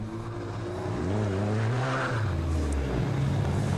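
A Puma race car in a CSCC Puma Cup circuit race roars past, its loud engine note sweeping down in pitch as it goes by, with steady engine drone continuing behind.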